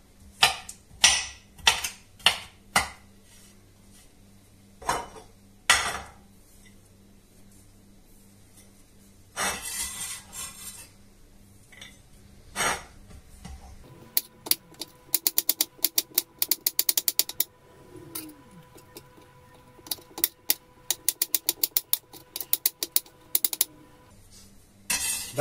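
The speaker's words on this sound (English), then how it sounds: "So, let's chop this garlic up" A freshly sharpened kitchen knife chops garlic on a cutting board, giving bursts of quick, sharp taps in rapid runs separated by pauses, close and crisp with no talking.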